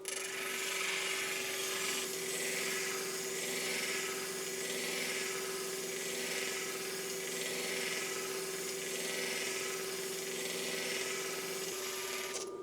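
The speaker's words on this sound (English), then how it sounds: "I've got my 180 grit diamond disc installed here, and we are ready to roll." Flat lap grinding a jasper rock on a 180 grit diamond disc, a steady close rasping scrape with a constant motor hum underneath, swelling and easing slightly as the stone is moved around the disc.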